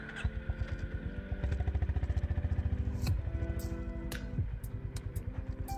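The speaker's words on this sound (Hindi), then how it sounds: "चलानी पड़ेगी बाइक।" A Honda Highness motorcycle engine thumps in a steady, rapid low pulse close by as it is ridden, with revs rising and easing and some clatter over the top.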